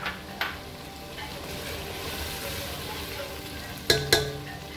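Green chilies fry in oil in a pan for white chana pulao with black pepper, salt and white pepper, giving a steady low sizzle, broken by a few sharp clinks of a utensil against the pan near the end.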